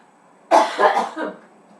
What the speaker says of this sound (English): the first thing I'm going to do is cough like I always do